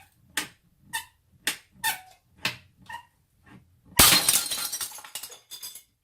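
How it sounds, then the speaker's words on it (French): A ruler bends under growing stress, giving a series of sharp creaks and cracks spaced about half a second apart, then snaps with a loud breaking burst whose splintering rattle fades over the next two seconds. "On a dépassé le seuil de résistance, la règle s'est brisée."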